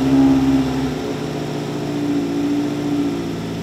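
A Subaru WRX engine idles steadily just after a turbo inlet install, a continuous, fairly loud low hum with a slight rise at the start and no talking.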